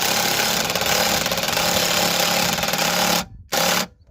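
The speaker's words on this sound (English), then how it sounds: "Or not a drill, with an impact, but it is definitely quicker that way" A cordless impact driver sinks a long fine-threaded screw into a caravan, giving a loud, steady rattling hammer for about three seconds before stopping briefly and firing once more.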